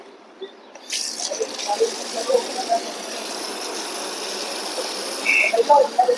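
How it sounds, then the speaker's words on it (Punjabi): Water runs steadily from a tap at a gurdwara washing area while hands are rinsed beneath it, a soft gushing flow with splashes and drips and a person talking over it. "ਤੇ ਹੱਥ ਵਾਸ਼ ਕਰ ਲਿਆ"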